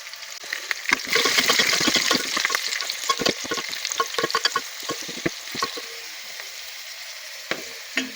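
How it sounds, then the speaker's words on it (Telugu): Green chillies and garlic fry in hot oil with a bright, crackling sizzle. A loud burst of spitting comes first, then a dense patter of pops that slowly thins to a quieter hiss. "మిరపకాయలు వేయించుకోవాలి నూనెలో ఎల్లిపాయలు కూడా నేను వేయించుకోవాలి"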